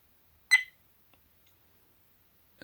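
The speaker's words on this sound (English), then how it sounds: "And if you don't want the beep sound, you could touch it." A single short electronic beep, clear and close, followed by near silence and a faint click at the end.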